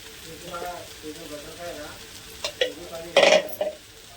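A spoon stirs chilli powder and asafoetida in a pan for matar kachori filling, giving a few scraping clinks and a louder metallic scrape near the end, with a voice talking underneath.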